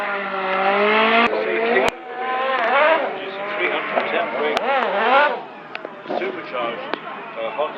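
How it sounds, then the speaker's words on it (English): A hill-climb race car with a supercharged Honda Civic engine screams loudly at the Cholmondeley Pageant of Power. The high, rising and falling engine note is heard under a commentator's voice over a public address system. "Supercharged Honda Civic engine."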